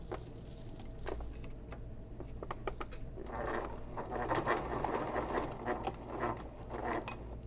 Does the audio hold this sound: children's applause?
no